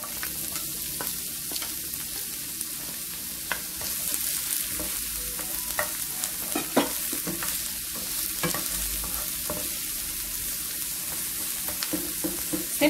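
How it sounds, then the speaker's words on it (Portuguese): Garlic and onion fry in a pan for collard greens: a steady close sizzle with frequent scraping stir strokes and small clicks of the utensil against the pan, continuous and moderately loud, with no speech. "sempre deixando, gente, na fritadinha no alho e na cebola"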